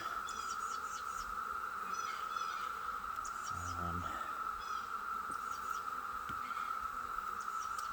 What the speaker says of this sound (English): just the sheer number of cicada noise that's got to be bothering them